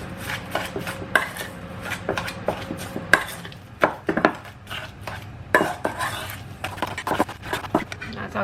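Butter mixed with parsley, garlic and salt in a bowl, heard as repeated close knocks, taps and scrapes of a utensil against the bowl in an uneven rhythm, with no clear talking.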